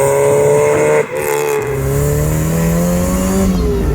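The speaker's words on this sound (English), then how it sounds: "Then of course we started messing with the launch control. It sounded nuts." A tuned Mazda MX-5 engine roars loudly on the road, briefly dips as it shifts, then climbs again in a strong, rising acceleration close by.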